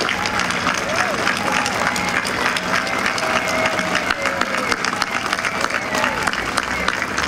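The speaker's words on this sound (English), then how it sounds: "the audience's gratitude and jubilation is evidenced by their applause and cheers" An audience at the Holodomor memorial dedication in Washington, D.C. bursts into dense applause and cheering, a steady wash of crowd clapping with scattered whoops and voices over it throughout.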